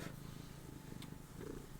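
A pet cat purring softly indoors near a computer keyboard, a faint low rumbling that runs steadily throughout at close range.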